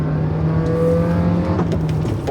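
A Subaru Sambar TT2 kei truck engine pulls hard from a second-gear takeoff, a loud, close, rising drone with steady harmonics that climbs in pitch before easing briefly near the end.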